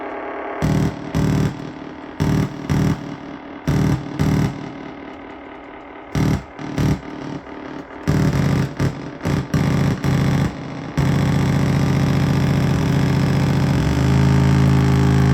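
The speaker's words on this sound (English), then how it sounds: "This is with the tape echo." Feedback from a no-input Numark DXM09 mixer fed through a tape echo, with choppy bursts of gritty, distorted tone chopped by repeated silences, then settling into a steady, loud sustained drone.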